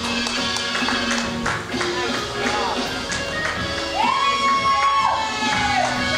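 A wrestling crowd cheers and shouts across the whole stretch, with whoops rising at moments, while commentators talk over the noise.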